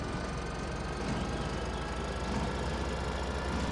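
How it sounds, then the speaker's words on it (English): Steady, dense mechanical rumble of a baler machine in Farming Simulator 2013, chugging continuously like a steam train, loud and unbroken with no voices. "Sounds like a steam train."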